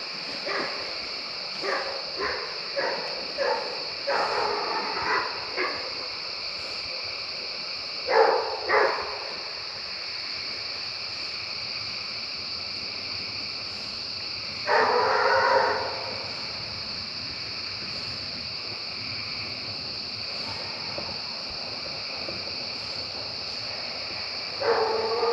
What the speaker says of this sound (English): I don't know if y'all can still hear Gypsy and Tiger barking.